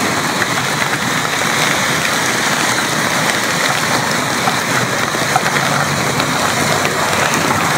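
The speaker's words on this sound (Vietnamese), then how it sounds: "Mưa như thế này là dễ ngập lắm luôn anh chị." Heavy rain pouring down on a central Saigon street near the metro skylight, a dense, loud, unbroken hiss of falling water that fills the whole stretch with no voices.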